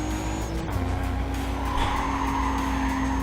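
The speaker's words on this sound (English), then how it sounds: "Oh crap, I drifted." A car drifting in Need for Speed Carbon, tires skidding with a steady, sustained squeal over a droning engine that holds pitch for about three seconds, loud and close, no voices.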